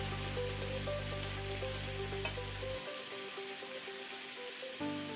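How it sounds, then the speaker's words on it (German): Meatballs sizzle in a frying pan after being turned, cooking on about three-quarter heat. The frying crackles steadily and fairly loudly throughout, close by, with no one speaking. "Nach circa anderthalb Minuten drehe ich die Hackbällchen um und dann brate ich sie bei ungefähr dreiviertel"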